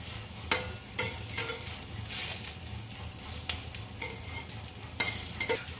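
Pieces of omelette fry in a pan, flipped to cook both sides, giving a soft steady sizzle broken by occasional clinks and scrapes of a spatula, close and fairly quiet with no talking.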